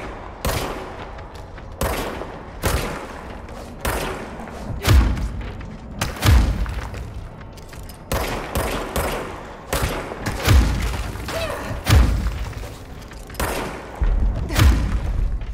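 Heavy gunfire in the video game Control, a steady barrage of loud close shots and thuds running continuously.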